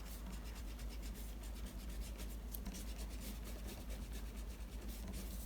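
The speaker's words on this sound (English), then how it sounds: "I then can erase out these original long lines." A rubber eraser rubbing out pencil lines on drawing paper, a faint close scratchy scrubbing with quick back-and-forth strokes that runs steadily throughout.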